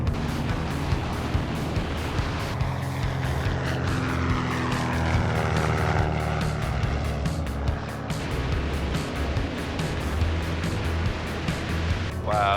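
A small, restored 61-year-old airplane that had crashed takes off and climbs with two aboard, its propeller engine droning loud and steady up close, the tone sweeping as power and airspeed build, with wind rush over the airframe.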